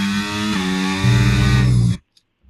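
A race car engine roars at full throttle, a loud, buzzing whine that steps in pitch as it climbs, then cuts off abruptly into silence.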